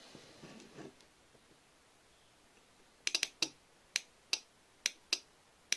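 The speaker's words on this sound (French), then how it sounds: "ce qu'on peut tester tout de suite, c'est est-ce qu'on entend bien le relais se fermer quand on applique 25 volts aux pattes." A relay snapping shut as 25 volts is applied to its pins, a series of about eight sharp, close clicks at uneven intervals over faint background hiss, in a garden solar power setup with a LiFePO4 battery and MPPT controller.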